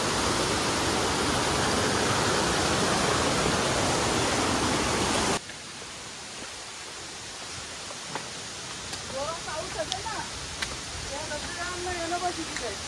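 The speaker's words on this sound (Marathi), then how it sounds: "छोटासा धबधबा आहे." A small waterfall on a forest stream along the Ajoba hill trek near Shahapur pours as a loud, steady rush for about five seconds, then gives way abruptly to quiet outdoor ambience with faint bird chirps.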